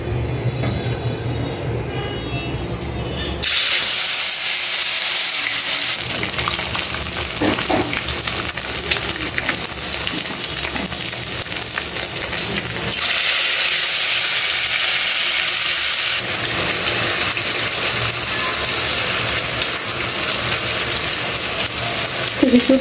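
Fish masala with ginger-garlic paste, turmeric and cumin sizzles steadily in a kadai, a loud continuous frying hiss that swells and dips as the cooking goes on, with occasional stirring scrapes.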